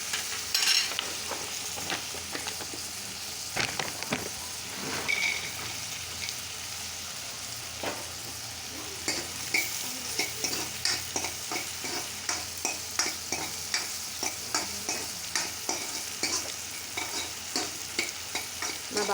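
Onions, a large tomato and green chilies frying in a pan for egg curry, stirred with a spoon in a steady run of scraping strokes over a continuous sizzle, close and moderately loud with no talking.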